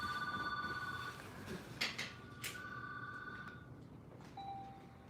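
A telephone rings in bursts of electronic trilling tones, then a fainter single tone follows, with no talking over it.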